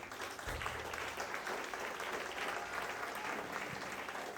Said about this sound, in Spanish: Dale ese aplauso a Dios, por favor.